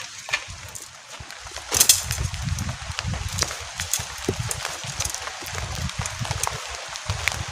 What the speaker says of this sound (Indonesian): Kayak hujannya gede deh yo.